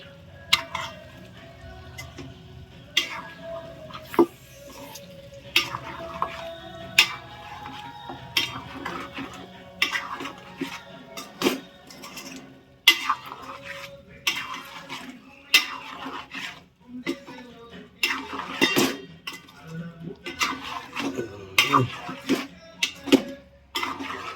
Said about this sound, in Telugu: ఉడకబెట్టిన చికెన్ అయితే మొత్తం వేసేసిన వేసేసి జర కొంచెం మిక్స్ చేసుకుందాము